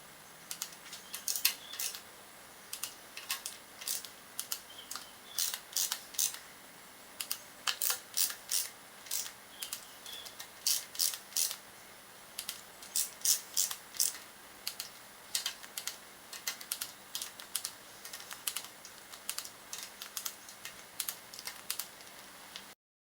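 A wrench tightens the front timing cover bolts on a turbo LS engine during a VZ SS Commodore rebuild, giving quiet, close ratcheting clicks in irregular bursts with short pauses between.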